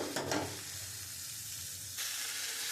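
Papaya and potato pieces fry with spices in a pan, a soft, fairly faint sizzle with a couple of stirring scrapes at the start and the hiss swelling again near the end.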